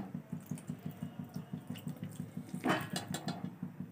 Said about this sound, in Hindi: देखिए इतना पानी डालना है लगभग मैंने डाला होगा ये पूरा 1 कप